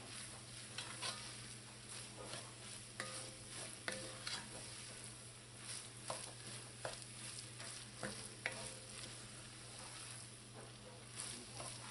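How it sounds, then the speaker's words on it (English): Meat sauce with dried oregano, basil, red pepper flakes and sugar being stirred in a pan, soft repeated scraping and light sizzle at low volume with a steady background hum. "Mix this all in."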